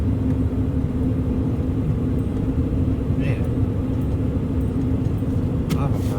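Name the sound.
noise coming from a fridge in a truck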